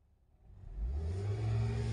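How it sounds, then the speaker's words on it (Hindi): A Hyundai i20 car engine starts up and settles into a steady running hum, rising from quiet into a constant low rumble with a faint whir after the first second. "जैसा कि देख पा रहे हैं गाड़ी चालू है"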